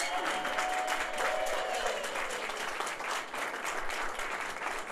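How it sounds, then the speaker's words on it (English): An audience at a kindergarten graduation ceremony claps steadily for the graduates, a dense, sustained wash of applause from a crowd filling the room. "Everyone give them one more round of applause"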